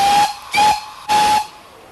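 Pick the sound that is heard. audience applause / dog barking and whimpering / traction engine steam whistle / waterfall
traction engine steam whistle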